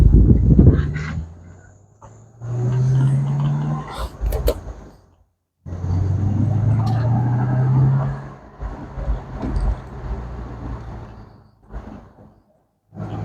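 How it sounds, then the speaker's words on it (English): Supercharged engine of a 2008 Ford Mustang Shelby GT500 rising in pitch through two strong acceleration pulls with a whining supercharger, heard from inside the car, with a brief lull between pulls and quieter running afterward. "Give it a little bit of gas. Gotta love that supercharger noise."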